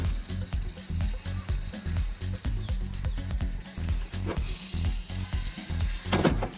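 Capsicum roast at 300 degrees Celsius in an Onni Pro oven, giving a steady, soft sizzle with fine crackles. Low rhythmic thumps run underneath and a few brighter pops come near the end.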